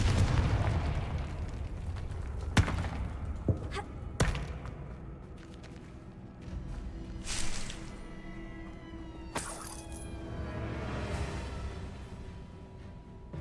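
Confringo blasting spells in Hogwarts Legacy, several separate explosive booms and thuds with crackling debris tails, spaced irregularly against quieter game ambience.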